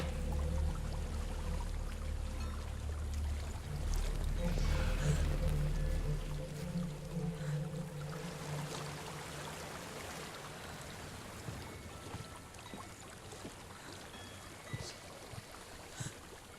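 Waterfall in the video game Hellblade: Senua's Sacrifice, a continuous rushing wash of water with a low rumble that eases and thins over the span, no talk.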